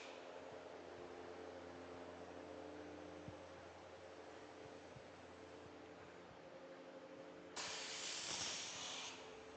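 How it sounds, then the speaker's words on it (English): A WARDJet production waterjet machine with two cutting heads and a 100 horsepower pump cuts parts from 1/4-inch steel, giving a steady broadband hiss that jumps to a louder, harsher spray near the end. "So this area down here, we've got our production model Waterjet."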